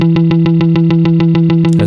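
An electric guitar synth patch in Ableton Live repeats one note about a dozen times in a steady, even rhythm, loud and up close with distorted, chorus-like effects colouring each hit, with no talking.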